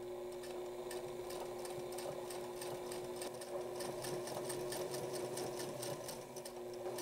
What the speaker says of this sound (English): these sleeves are going to get a top stitching here too